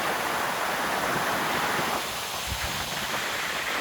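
Water rushes strongly on a monsoon trek to Visapur Fort by way of Patan village, a loud, broad roar of flowing water mixed with gusts of wind buffeting the microphone, with no talk.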